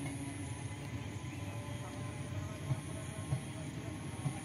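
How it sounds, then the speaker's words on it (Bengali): A train rumbles past steadily at a moderate distance, a continuous low mechanical roar with faint rhythmic wheel clatter and a thin high hiss over it, outdoors in the morning. "ট্রেনটা যাচ্ছে এই মুহূর্তে।"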